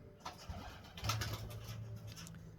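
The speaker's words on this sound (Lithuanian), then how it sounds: "Paukščiai." Pigeons or doves cooing outdoors, low repeated coos close by with faint chirps and quiet ambient background, no speech.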